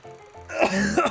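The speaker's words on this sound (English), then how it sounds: "I want to stop coughing." Someone ill with the flu gives a short, rough, throaty cough near the microphone, a single harsh burst that breaks up at the end.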